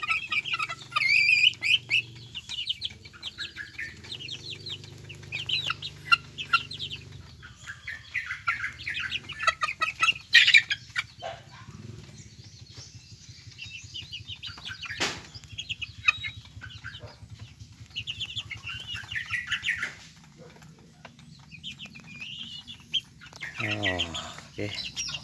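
Seven two-month-old young chickens cheep and cluck close by, with soft peeping, rustling and a brief burst of wing flapping near the end.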